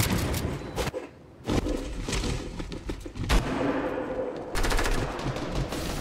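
Bursts of automatic gunfire in a Fortnite Battle Royale match, loud rapid rattling volleys broken by short pauses and a sharp shot near the middle, with no voices over it.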